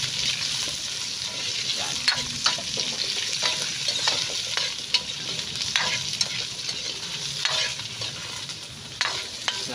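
Sliced hard vegetables such as string beans and winged beans stir-fry in a pan, giving a steady close sizzle with scattered stirring clacks, while a voice says one short word.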